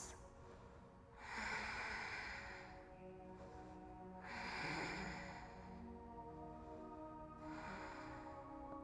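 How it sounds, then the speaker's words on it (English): Slow, deep breaths during a vinyasa yoga twist, with three long audible inhale-exhale cycles, soft and close, with no talking. "take a few deep breaths"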